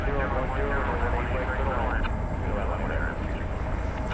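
An Airbus A320neo at night on a runway at DFW Airport gives a steady, loud, roaring engine rumble. Someone speaks over the noise throughout.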